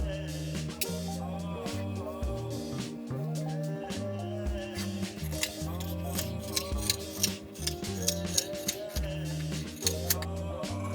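Scissors snip through thin padding fabric being cut into pieces for a handmade book pouch, with repeated close cuts running steadily throughout under a continuous bed of music.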